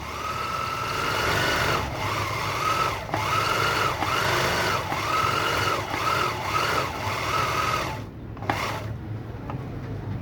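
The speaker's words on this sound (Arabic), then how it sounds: "خلي نجي حتى الماكينة نجرب السكينة مالتها" A Brother Japanese Jumbo three-thread overlock sewing machine runs at close range with a fast, steady mechanical whir, pausing briefly several times and stopping near the end.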